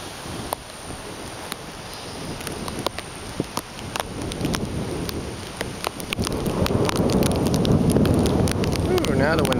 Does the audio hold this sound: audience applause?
no